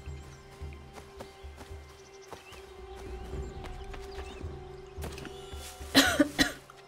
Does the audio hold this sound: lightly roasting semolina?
no